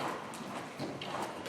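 A derby horse walks during a riding lesson, its hooves giving a steady, even clip-clop on soft ground, fairly close and continuous.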